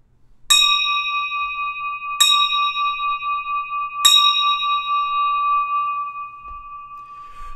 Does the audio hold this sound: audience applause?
no